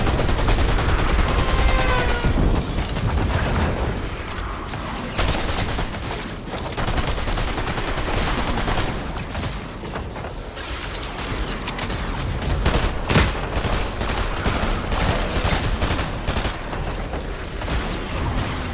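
Relentless Fortnite gunfire fills the whole stretch, with loud overlapping automatic bursts, single shots and booms during a horde rush, dense and close with barely a pause.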